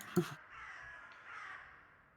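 A single loud crow caw cuts in near the start, followed by softer, drawn-out calls trailing off faintly behind, with no talk.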